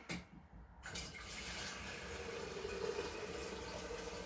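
Steady rush of running water pouring into a kettle, continuous and close, with a rising tone toward the end as it fills.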